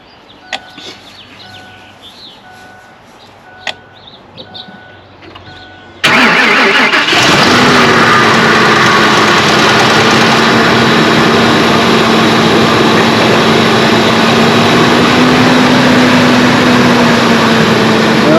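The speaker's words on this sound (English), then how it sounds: "So hopefully we can go ahead and start the car now." A car engine cranks and catches after a jump start from a LOKITHOR J400 jumper pack, quiet clicks first, then a sudden loud start that settles into a steady, close idle.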